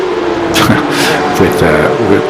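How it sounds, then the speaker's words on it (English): A Porsche Cup GT race car engine in a racing video game drones steadily and rises in pitch as it revs, with a voice talking over it throughout. "a GT car in action"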